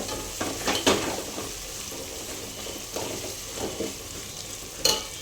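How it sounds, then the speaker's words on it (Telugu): Coconut masala fries in a pan for pulao with a continuous close sizzle, broken by occasional scraping stirs of a spoon against the pan. "కొబ్బరి మసాలా కూడా బాగా ఫ్రై అయింది చూడండి అన్ని మసాలాలు బాగా ఫ్రై అయ్యాయి"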